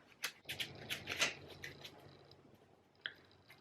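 A deck of cards being shuffled, with a burst of quick riffling flutters over the first second and a half, trailing into softer rustling and a single sharp snap near the end, close and fairly quiet.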